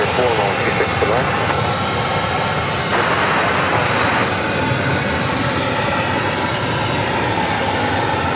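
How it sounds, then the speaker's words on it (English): A six-year-old Southwest Airlines Boeing 737 arriving from Baltimore and landing at Phoenix Sky Harbor, its engines a steady loud roar and whine throughout, with a voice talking over it. "Southwest Airlines, Flight 3589, coming in from Baltimore, landing here at Phoenix Sky Harbor."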